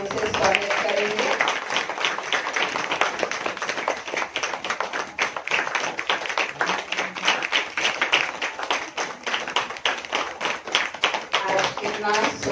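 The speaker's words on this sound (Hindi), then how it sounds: "सभी तालियों से स्वागत करेंगे।" An audience of women at a Women's Day gathering claps to welcome a speaker, a dense, sustained patter of applause that runs throughout, with a voice heard faintly at the start and end.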